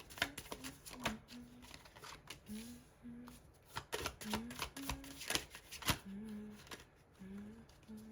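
A deck of tarot cards is shuffled by hand in a series of crisp riffles and taps. A soft melodic song plays quietly underneath throughout.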